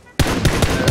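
Gunfire in the PUBG battle royale game, a sudden burst of rapid sharp shots in quick succession, loud and close, with no talk over it.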